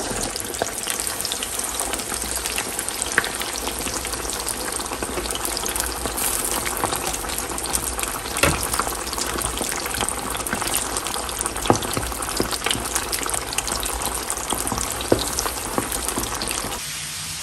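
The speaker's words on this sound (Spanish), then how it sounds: "Es necesario que esté bien sequecito para que no nos vaya a explotar el aceite. Voy a echar 4 piezas nada más." Four pieces of food fry in hot oil, a dense, loud, continuous sizzle and crackle with scattered pops, heard close up with no talking.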